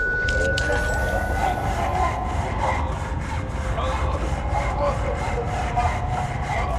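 In Amnesia: The Dark Descent, a saw rasps back and forth in steady, rhythmic strokes through a torture scene, loud and continuous under dark ambient drone.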